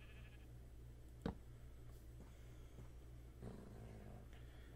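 Sheep bleat in a Minecraft-style video game, one clear nearby bleat followed later by a softer second call, set against a low steady background hum.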